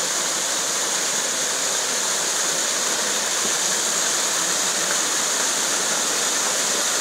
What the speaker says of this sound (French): Et là, arrivé à la cascade,